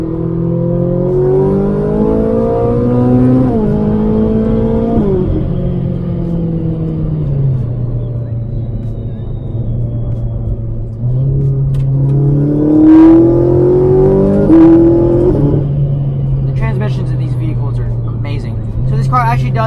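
Ferrari 458 Italia V8 revving while being driven, engine pitch climbing and dropping through gear changes with a loud continuous rumble, a sharp rise around the middle, and a voice talking over the engine noise.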